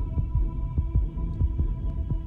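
A steady heartbeat sound effect in an audio story, deep paired thumps repeating at an even pace over a low constant hum.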